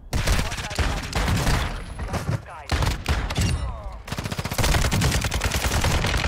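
Rapid video game gunfire from a shotgun pistol, dense loud volleys of shots with brief gaps, up front, with a player talking over the action.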